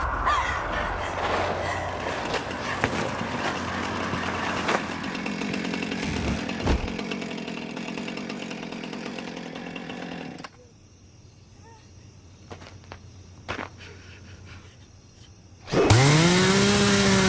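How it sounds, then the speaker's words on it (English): A chainsaw roars and revs continuously, cutting out abruptly partway through, followed by quieter sounds and a sudden loud, tonal blast at the end. "we get our traditional chase scene where Slender Beauty is fleeing a portly giant with a chainsaw"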